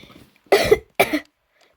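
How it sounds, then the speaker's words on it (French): Two sharp, close coughs in quick succession, each a short harsh burst about half a second apart, followed by quiet. "Me tousse pas au visage."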